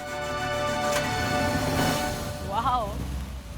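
A vintage 1934 Rolls-Royce engine idles with a steady low hum and a smooth, even tone, heard up close while people talk briefly over it.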